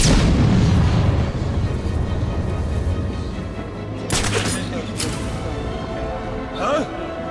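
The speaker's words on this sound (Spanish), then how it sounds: "¡Granada!" Explosions and gunfire in Batman: Arkham City, a heavy rumbling barrage that opens loud and continues with sharp bursts and booms, while a voice shouts over the chaos.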